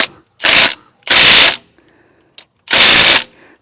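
A power ratchet tightens a 5/8 bolt on the timing gear of a big-block engine from a 1966 wagon, firing in three short, loud, close bursts separated by brief pauses.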